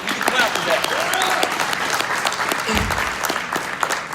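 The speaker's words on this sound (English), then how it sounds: "Okay, we can clap for that." Audience at a Young Latino Leadership Summit applauds, a dense, sustained wash of clapping from a crowd filling the room, with a voice faintly under it.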